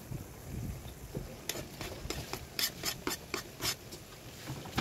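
Pechay leaves being stirred into broth in a home kitchen pot, making soft scraping and rubbing strokes in an irregular rhythm, close by.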